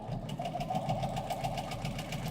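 A domestic sewing machine runs steadily with a fast, even mechanical whirr and rhythmic needle chatter, close and continuous without pause.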